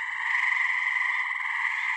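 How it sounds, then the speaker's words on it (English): Tree frogs in southeast Ohio call at night in a dense, continuous chorus of high trilling croaks, steady and fairly loud with no other sounds. "Listen to the frogs."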